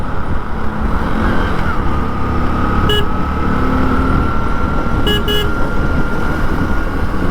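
A Mahindra Bolero SUV passes close on a highway, heard from a Hero HF Deluxe motorcycle on an Indore to Bhopal ride. Steady loud wind and road roar runs throughout, with two short horn blasts.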